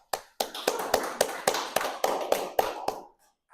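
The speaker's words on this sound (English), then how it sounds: "let's give a round of applause" About ten crisp, evenly spaced claps from a small audience at a LaTeX workshop, close and loud, slowing slightly before stopping and leaving near silence.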